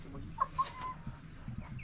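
A chicken gives a couple of short, quiet clucks close together early on, followed by faint rustling and low background noise.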